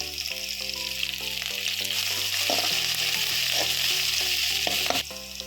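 Chopped onion and fenugreek leaves sizzle steadily in hot oil with a dense, close crackle, while steady music plays underneath.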